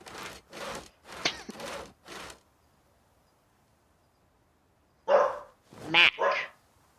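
A pet dog barks in two clusters, a run of four or five sharp barks, a pause of quiet, then a few louder, closer barks and yips, with a person's voice mixed in.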